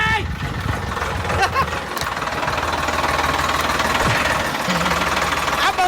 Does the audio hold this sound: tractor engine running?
yes